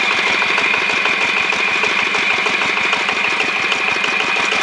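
The cooling fan on a walk-behind tractor spins after a bearing replacement, giving a steady, close, rapid mechanical chugging with a constant high whine running through it.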